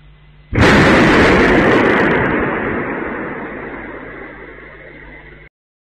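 A drone attack near Bryansk brings a single loud explosion that bursts abruptly and then rumbles and slowly fades over several seconds before cutting off.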